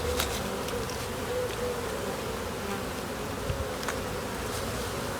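Honeybees buzz continuously and close by, a dense steady drone with occasional individual bees flitting past, no voices.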